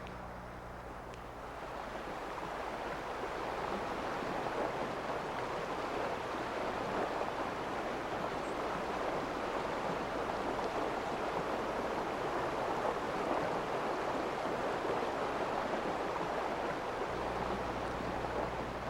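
Broken river water rushing over rocks in a fishing stream, a continuous hissing wash that swells up in the first couple of seconds and then stays steady.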